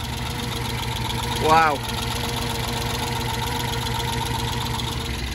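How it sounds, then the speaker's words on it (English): A Corvette C4 ZR-1 engine idles roughly on its first start in 18 years, with a steady, close rumble throughout and a brief excited voice cutting in near the start. "First start in 18 years. Woohoo! Not sounding brilliant"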